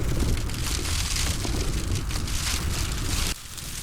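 Hail and rain pelt a camping tarp in the wind, a dense, loud crackling patter that roars steadily for several seconds before dropping abruptly to a softer hiss.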